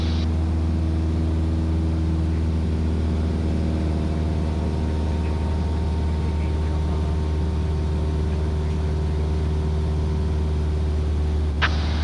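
A 2022 Cessna 172S Skyhawk engine drones steadily in level flight at about 2,200 RPM, a loud, constant low-pitched cabin hum with no breaks and no voices.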